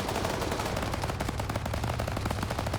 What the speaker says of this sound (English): They're literally just mag dumping each other.